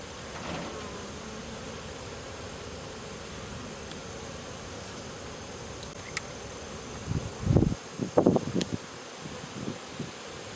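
Honey bees drone in a steady, even hum during an autumn hive inspection, with brief close rustles and knocks from handling the frames near the end.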